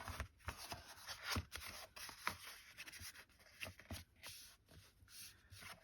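Paper being cut for a Stampin' Up! card kit, a run of crisp, close snips and scraping slides with short irregular pauses, quiet and without any voice.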